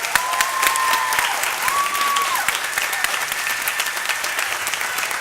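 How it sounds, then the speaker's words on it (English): A round of applause for a group of women at a Christmas madrigal performance, a steady, fairly loud wash of audience clapping with a few whoops and cheers on top, sustained throughout. "So why don't we give them a round of applause."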